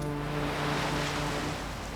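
Atlantic Ocean surf breaking on the Azores shore, a broad steady wash of waves, close and loud, with some wind and no talking.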